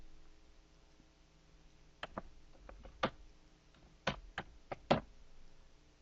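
Numbers tapped into a computer keyboard, a handful of sharp, separate key clicks in short irregular bursts against a quiet room background.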